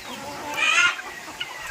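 A hen clucks on a poultry farm of about eight hundred birds: one loud, close squawking cluck, followed by a few fainter clucks in the background.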